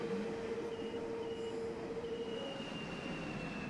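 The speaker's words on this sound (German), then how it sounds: "Da kommt die andere S-Bahn." An S-Bahn commuter train runs in the city-building game Cities: Skylines, a steady rolling rumble with high wheel squeals and whining tones drifting over it, moderately loud and unbroken, with no talk.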